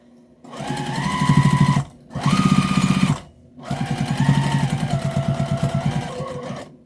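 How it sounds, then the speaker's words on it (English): A sewing machine stitches fabric pieces together in three close, loud bursts of rapid, even needle chatter, each with a rising and falling motor whine, separated by short pauses. "I'm going to sew my last piece on."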